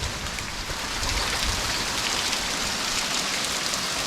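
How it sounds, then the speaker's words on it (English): Steady rushing water roars close by, heard from underneath a waterfall at Poço Azul on São Miguel in the Azores, a dense continuous spray hiss with no voices. "I'm standing underneath the waterfall right now."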